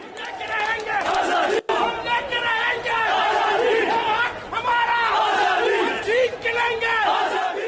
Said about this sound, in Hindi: हर जगह दंगाई भीड़ एक ही नारा लगा रही थी